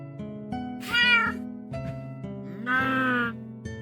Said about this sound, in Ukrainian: слухайте котика.